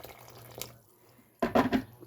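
Hot water pours into a bowl of corn flour for a mixed corn bread, a short, close splash and gurgle that starts abruptly after a quiet pause.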